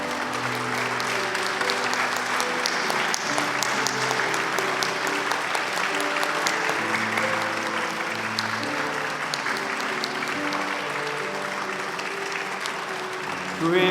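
A church congregation at a retirement and ordination service applauds the retiring elders, steady clapping beneath sustained organ or piano music that runs through the whole passage.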